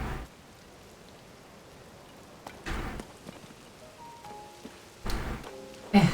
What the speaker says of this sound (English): The rain will be over shortly.